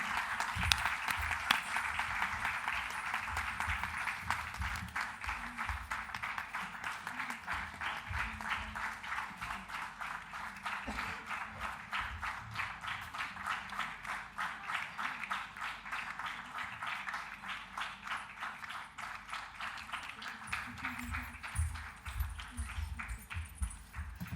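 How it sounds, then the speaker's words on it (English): An audience applauds steadily throughout a certificate presentation on stage, dense and sustained clapping from a sizable crowd with no break. "Please give a huge round of applause"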